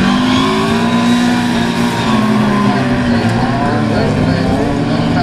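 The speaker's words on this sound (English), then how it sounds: "we've got that Yostel's 15 that's flying around the outside" Class 6 autograss race cars in a ladies' race roar around a dirt track, engines loud and continuous with rising and falling revs as they pass close by, while a commentator talks over the racing.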